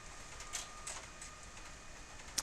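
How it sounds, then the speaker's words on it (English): A printer in an office runs off a marketing newsletter, giving a faint steady mechanical whir broken by a few soft clicks and a sharp tick at the end. "You hear the printer going in the background."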